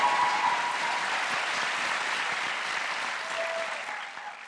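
Graduates and guests applaud at a university commencement ceremony, a dense, even roar of clapping that fills the whole stretch at steady volume and tapers slightly at the very end.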